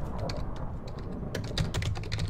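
Rapid keystrokes on a computer keyboard clatter continuously and close up, with irregular clicks, during online server minigames.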